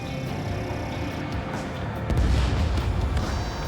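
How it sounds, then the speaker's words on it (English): Missile launch and explosion in Ace Combat 7 Skies Unknown, a steady roaring jet-like rush that swells into a heavier rumbling boom near the end, loud and continuous with no talk. "Missile away."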